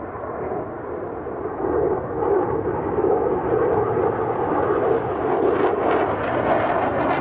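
An F-16 fighter jet at the Farnborough air show gives a steady, broad roar that swells a little as it passes, heard from a distance with no talking.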